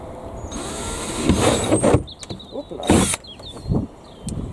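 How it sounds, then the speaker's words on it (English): A power drill whines and grinds through a plastic lid in short bursts, with squealing and crackling between spurts of drilling. "if I drill holes in the lid"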